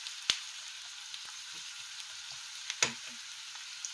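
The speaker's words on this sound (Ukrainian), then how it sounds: "цибульку вимикаємо, все, трошки підсмажили і достатньо" Onions frying in oil in a pan, giving a steady, faint hiss of sizzling with a few sharp crackles and light stirring clicks scattered throughout.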